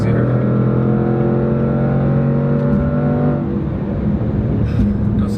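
Range Rover SVR SUV with a 500+ hp engine pulling hard under acceleration, a loud rising engine note with harmonic whine that shifts midway, heard from inside the cabin.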